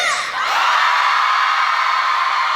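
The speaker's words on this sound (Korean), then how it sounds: "전방을 향해 힘찬 함성 발사!" A concert crowd roars with loud, sustained cheering and high shouts that rise sharply after a brief dip, then hold as a dense, continuous wall of yelling.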